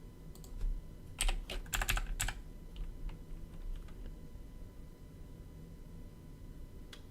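Typing on a computer keyboard while coding, with a dense burst of close keystrokes early on, then sparser scattered clicks and a quiet, steady background hum.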